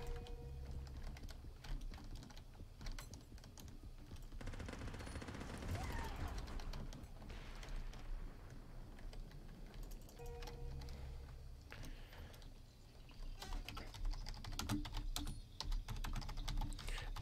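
Fast, busy typing on a computer keyboard goes on steadily and close, mixed with distant gunfire and clatter from a multiplayer shooter game match.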